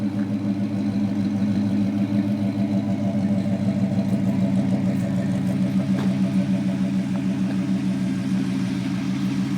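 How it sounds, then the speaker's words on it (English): A 1972 Pontiac Grand Prix with a 400 V8 idles steadily through a true dual Flowmaster exhaust with straight pipes, giving a deep, even burble that stays close and loud the whole time. "It's a dual Flowmaster exhaust, straight pipes from the engine back"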